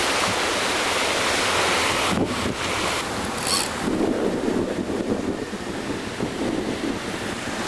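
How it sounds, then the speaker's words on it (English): Ocean surf rolls in on a fishing beach, a steady broad roar of breaking waves mixed with heavy wind buffeting the microphone, loud and continuous with a swell near the middle. "Comes the wave."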